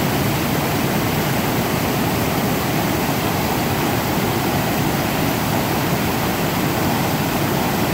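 A small tributary creek crossing the Pacific Crest Trail rushes loudly and steadily, a dense, unbroken roar of flowing water with no other sounds.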